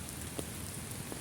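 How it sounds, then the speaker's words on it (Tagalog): Steady rain hissing on surfaces, a dense constant patter with a few faint drop taps. "Ayan. Umuulan ngayon."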